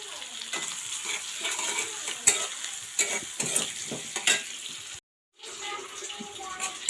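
Browned onion with dal masala fries in a pan for a sour mola fish dish, giving a continuous crackling sizzle broken by scraping stir strokes and a brief pause.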